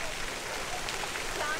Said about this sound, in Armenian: Սպիտակ կարկուտով